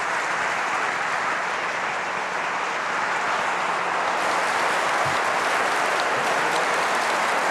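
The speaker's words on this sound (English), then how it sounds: "I would like a warm round of applause for Pulitzer Prize-winning journalist Glenn Greenwald." An Ottawa audience gives sustained, warm applause welcoming journalist Glenn Greenwald, a broad steady roar of many hands clapping that holds at an even level throughout.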